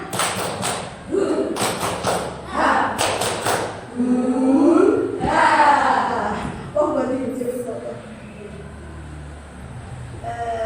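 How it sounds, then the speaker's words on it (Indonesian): A group clapping a rhythmic spirit clap (tepuk semangat) in a classroom-style session: quick bursts of hand claps in a patterned rhythm at the start, then voices talking and chattering over the remainder. "coba semuanya tepuk semangat"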